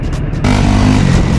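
Motorcycle engine running steadily on a 40-kilometre ride near Dhikure in the Nuwakot–Dhading hills of Nepal, a loud, close, continuous drone that swells and holds after a brief softer start.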